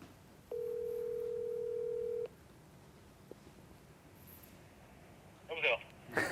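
A single steady telephone ringback tone sounds while a phone call is being placed. The tone holds for about two seconds, then falls quiet against faint room noise, and brief voices follow near the end.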